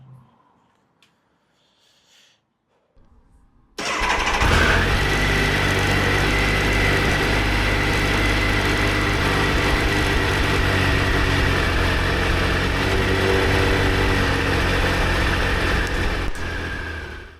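A Triumph Sprint ST 955i motorcycle engine cranks after a quiet pause, catches and settles into a steady, loud idle that runs on without a break, with no voices over it.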